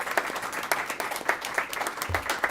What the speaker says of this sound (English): Let's get a big round of applause for Project Search.